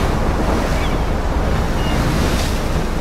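A storm at sea in Life is Strange brings roaring wind and crashing waves, a loud, dense wash of surf and gusts that goes on without a break.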